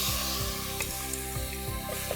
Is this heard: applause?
no